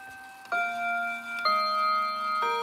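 An antique European pendulum clock, just set running, gives three clear ringing metallic strikes about a second apart. Each strike leaves a sustained bright tone that lingers over a quiet room.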